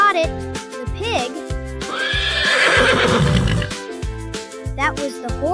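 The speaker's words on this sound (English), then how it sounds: "That was the horse." Horse neighing in a children's farm-animal sound game, one long, loud whinny rising and falling in the middle, set against a bouncy rhythmic musical backing.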